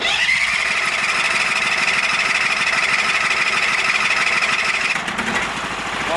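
A 20 hp Briggs V-twin on a Sears Suburban loader runs near the microphone while its fuel system reprimes, giving a steady, loud mechanical clatter and chug that briefly dips and shifts in tone near the end.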